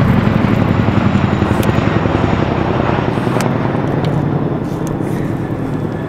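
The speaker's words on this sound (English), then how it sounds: "Also a really loud helicopter." A loud military helicopter thumps steadily overhead near the Irish Hunger Memorial in New York, its rotor chop and engine roar filling the scene without letup and no voices.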